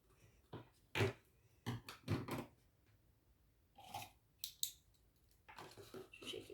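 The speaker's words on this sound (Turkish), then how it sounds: "Şimdi onu da açalım yani makasımızla" Scissors snipping a hole in a paper cup for a toy plane build, several separate crisp cuts and crinkles in quiet surroundings, close and fairly soft.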